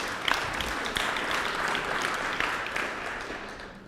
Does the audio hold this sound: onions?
no